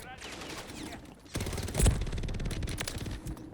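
Gunfire erupts in an Xbox shooter game: a quiet stretch of faint game noise gives way to loud, dense bursts of rapid shots with a sharp peak, then sustained firing continues to the end.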